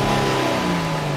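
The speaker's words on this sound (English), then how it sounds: "So the engine is running." A Dodge Charger engine with a faulty electronic throttle body (code P2173) revs briefly, a steady mid-pitched hum with a slight rise and fall in pitch, close and loud.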